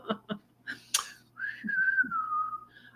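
Someone whistles close by: a few short chirpy notes, then one long held tone that slides slowly downward, loud and clear over a faint hum.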